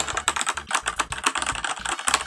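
Rapid, irregular clatter of keys on an X68000 Z computer keyboard, a dense run of close, crisp clicks and thocks with no voices.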